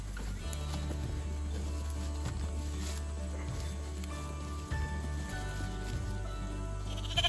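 Sheep bleat in a fall pasture during rotational grazing, several calls rising over a low, steady background rumble, moderately near, with no talk over them.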